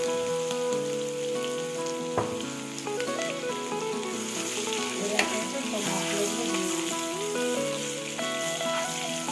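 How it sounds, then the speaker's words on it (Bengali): Whole cumin and dried red chillies frying in hot oil in a wok for egg and potato curry, a continuous crackling sizzle like rain on a surface, punctuated by occasional spoon taps. "গোটা শুকনো লঙ্কা দিয়ে নিয়ে ভালো করে ভেজে নিচ্ছি"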